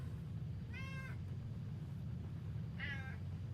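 A whiny cat meows twice, two drawn-out plaintive calls a couple of seconds apart, clear and fairly close over a constant low room hum.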